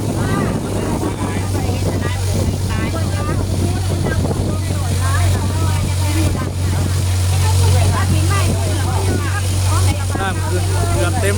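A speedboat engine drones steadily and loudly throughout, with people talking over the constant low hum.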